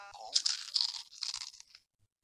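Crunchy food being eaten in the video game Toca Kitchen 2: a quick burst of loud, close crunching and chewing that lasts under two seconds and then stops, leaving silence.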